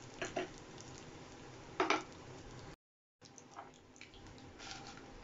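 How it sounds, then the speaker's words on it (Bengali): Black cumin and four dried red chillies frying in hot oil for a Bengali beetroot chechki give a faint, steady sizzle, with a couple of brief utensil clinks near the start and a short gap midway. "তো ফোড়নটা একটু ভাজা হয়ে যাক।"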